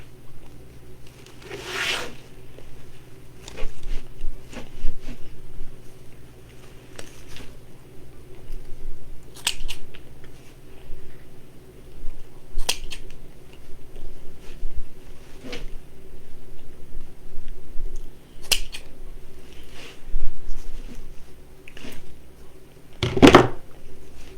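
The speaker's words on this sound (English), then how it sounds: "Let's take these tails and trim them." Scissors snip and trim ribbon bow tails on an Easter bunny wreath, a scattering of quiet, sparse cuts and rustles spread over a long stretch with soft handling noise between them.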